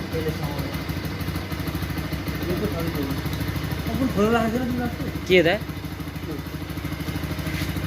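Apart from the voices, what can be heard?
Bajaj Pulsar NS 200 motorcycle engine running after restoration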